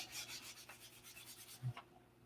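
A piece of sandpaper rubbed over wood in a workshop, giving a quiet run of short, even rasping strokes followed by a brief thud and one last scrape.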